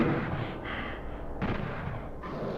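Gunfire and blasts in the PS1 version of Doom as a zombie man fires on a demon, with three bursts spaced about a second apart over a dense, grinding game noise bed.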